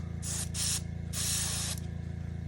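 Airbrush spraying paint onto a 1/500 scale Bandai Space Battleship Yamato model kit, three short hissing bursts with a brief pause between them, close and fairly quiet.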